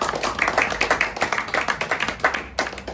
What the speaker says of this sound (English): can we give Joyce a big round of applause?